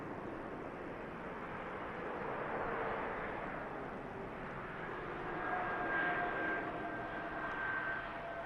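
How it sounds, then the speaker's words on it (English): A Turkish Airlines A321neo jet arriving at Manchester Airport from Istanbul, heard as a faint, distant, steady engine roar that swells gently and fades without any talk. "Turkish 21 Neo arriving in from Istanbul."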